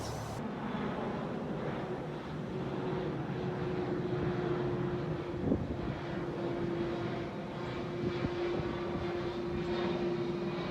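An airplane passes overhead near a steel-stair welding job, a steady droning engine rumble with a faint tonal hum that holds for the whole stretch, moderately loud, with a couple of small knocks and no talking.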